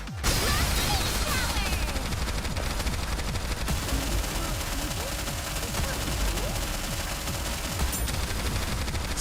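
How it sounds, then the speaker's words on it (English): Dense, rapid gunfire from the video game NIKKE, continuous automatic bursts crackling loudly at close range for the whole stretch, with a sharp impact near the start. "So many bullets."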